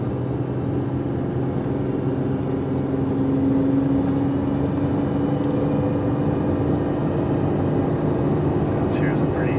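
A vehicle engine lugging up a steep grade drones low and steady under strain, a constant heavy rumble with a faint whine, continuing without letup.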